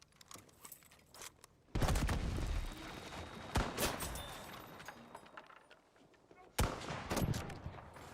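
Video game gunfire in Crysis 3 comes as loud, sharp bursts of rapid shots and single cracks, separated by quieter gaps with softer distant shots.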